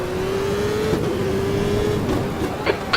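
A race car from the 1998 CART season roars alongside on the Detroit street circuit in Automobilista, a loud steady engine drone whose pitch drifts slowly as the car holds position nearby.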